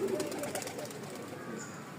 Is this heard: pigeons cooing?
yes